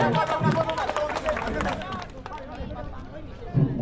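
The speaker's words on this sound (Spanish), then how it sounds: "Eso, fuerte las palmas otra vez." Neighbours clap their hands together at a birthday celebration for a doctor, a dense rhythmic patter of many palms amid crowd chatter and voices talking over it.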